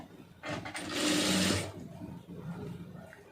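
A sewing machine stitches the gathered pleats of a puff sleeve, running in one steady loud burst of about a second before stopping, with quieter handling sounds around it.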